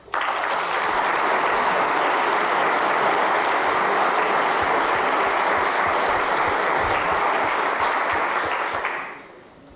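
Sustained, even applause from a large audience at a plenary tourism session, a dense wash of clapping that holds steady before quickly dying away.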